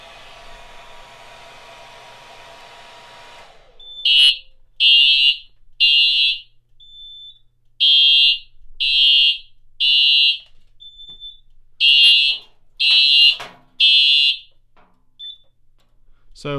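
A hair dryer whirs briefly, heating a detector, then a fire alarm sounds in loud, evenly spaced beeps grouped in threes, with short pauses between the groups.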